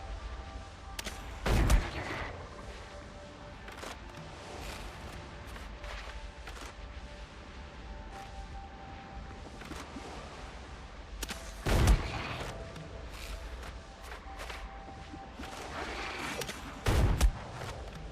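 Ship cannons fire in the pirate survival game Windrose, three heavy booming blasts spaced several seconds apart over a steady background of ambient game sound.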